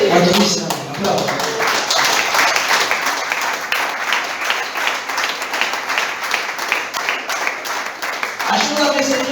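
A congregation applauds during a church service, with steady, dense clapping lasting several seconds and voices mixed in.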